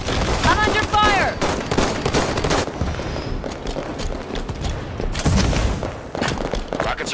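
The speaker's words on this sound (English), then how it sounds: "I'm under fire!" Halo 5 multiplayer firefight in Oddball mode, with steady bursts of weapon fire and heavy booms rolling under frequent voice callouts and game announcer lines, dense and loud throughout.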